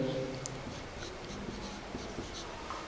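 Pen or marker writing out a triangle proof for a maths lesson, with a steady, faint scratching of strokes and small taps, no voice over it.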